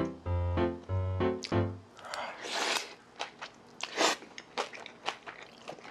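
Someone eating fried rice wrapped with crunchy kimchi, close and intimate crisp bites and chewing crunches in an irregular rhythm, preceded by a short stretch of talk.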